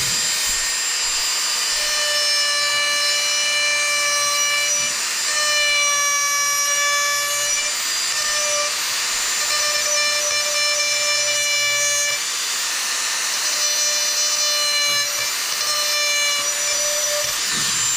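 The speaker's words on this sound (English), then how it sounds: "I'm still gonna do a nice little gouge going down to give a little definition." A powered carving tool gouges into a wooden bear, holding a steady, loud, high-pitched whine throughout, with brief dips and returns as the cut shifts.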